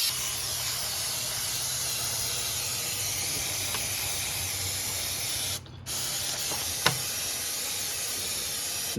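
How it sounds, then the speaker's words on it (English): Aerosol brake cleaner hisses steadily onto car brake parts for several seconds, a close, continuous spray broken by one brief pause and a small clink near the end. "Try to spray this out a little."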